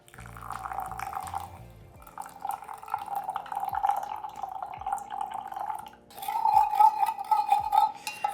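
Water poured into sugar to make a rich syrup, an equal-parts mix, with a soft splashing trickle and a short gurgling pour near the end, faint and close without talk.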